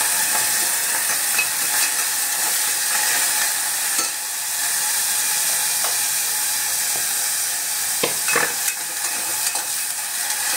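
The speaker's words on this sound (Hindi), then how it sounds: "बस ये थोड़ा सा चटक गया है ना, अब हम इसमें वेजीज डाल देंगे" Vegetables sizzling and frying in a pan with cumin and asafoetida, a continuous loud hiss with occasional stirring scrapes and clinks throughout.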